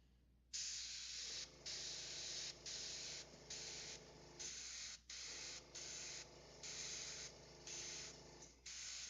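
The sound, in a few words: airbrush spraying black gray paint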